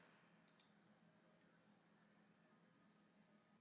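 Two quick, faint computer-mouse clicks sound close together near the start, followed by quiet background hiss.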